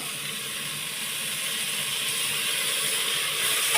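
Vegetables and fresh coriander frying in a pan for moong dal khichdi, heard as a steady, bright hiss that grows slightly louder and stays constant throughout, with no talking.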